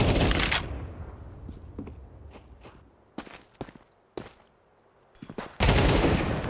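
Gunfire in Counter-Strike 2 at a professional esports match, with a burst of shots at the start, scattered sharp single shots through the middle, and another loud burst at the end.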